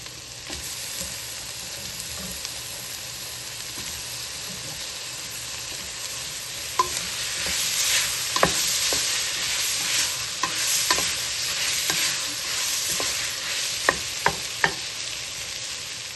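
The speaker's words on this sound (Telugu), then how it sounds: "దాంట్లో కొంచెం టమోటాలు వేసి వేద్దాం" Onions and tomatoes sizzle steadily in a pan for a homemade chicken curry, with a constant frying hiss and scattered clinks and scrapes of a spoon stirring at a close, even level.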